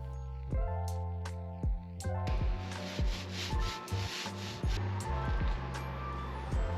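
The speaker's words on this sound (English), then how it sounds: "We sanded with 220 grit sandpaper." Wooden van kitchen cabinets being hand-sanded with 220 grit sandpaper, a close, repeated rasping rub in regular strokes.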